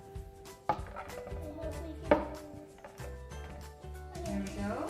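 A knife scrapes and knocks inside a baking pan as Halloween mini monster cakes are cut out, with uneven clunks, metallic scraping and low voices in a home kitchen.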